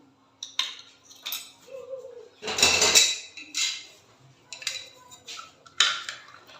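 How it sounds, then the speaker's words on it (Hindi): Spoon scraping and clinking around a bowl while potato and chickpea chaat ingredients are mixed, in irregular close bursts of metallic taps and stirring. "अभी मैं इसको अच्छे से मिक्स कर लेती हूँ।"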